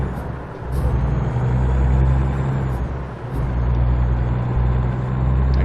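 Truck engine in American Truck Simulator drones steadily and loud throughout, with a low rumbling hum that dips briefly around shifts as gears are worked through.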